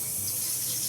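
Cold city tap water pours steadily into a bowl, a continuous close hiss and splash of running water with no pauses and no talking.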